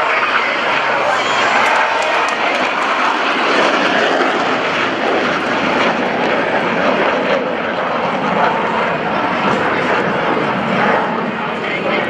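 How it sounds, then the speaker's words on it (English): US Navy Blue Angels F-18 jets roar overhead at the 2015 NAS Oceana airshow, a loud, sustained broadband jet rumble filling the whole stretch while an announcer's amplified voice talks over it. "as they demonstrate the inverted flight capability of the F-18"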